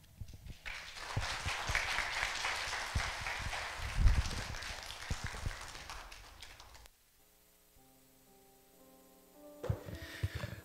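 Sustained audience applause after a church lecture on family peace, a dense, moderately loud clatter of many hands for several seconds, then it fades into a soft sustained chord before another brief burst of clapping.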